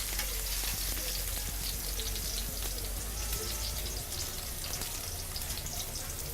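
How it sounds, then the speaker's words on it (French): Onions and garlic sweating in a hot pan, a steady close sizzle and crackle with a constant dense hiss throughout and no talk. "nos oignons sont en train de suer. Faire revenir de l'ail."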